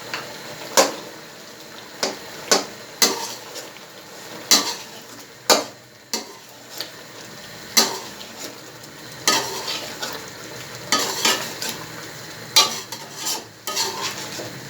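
Chicken karahi frying in ghee or oil, a soft steady sizzle punctuated by a dozen or so distinct, evenly spaced scrapes and knocks of a spoon against the metal pan, close and fairly loud.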